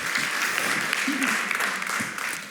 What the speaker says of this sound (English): You could hear the applause,